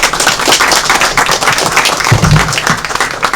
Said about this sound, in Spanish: Un aplauso por favor para los chicos.